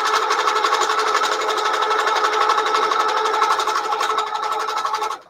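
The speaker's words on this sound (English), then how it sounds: "Now I'm going to stitch the next one." Sewing machine stitching a feathered quilting line, a steady close rapid whir that runs without pause and stops abruptly at the end.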